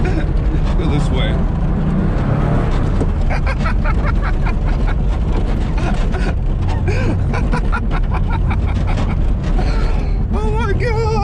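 A Porsche 911 Safari is driven hard off-road doing donuts on soft ground, its engine roaring continuously and loudly up close with creaks and rattles, while a voice talks excitedly over it.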